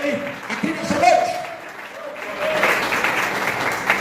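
Church congregation applauding during an evening service, a steady wash of clapping under a preacher's voice, swelling again toward the end.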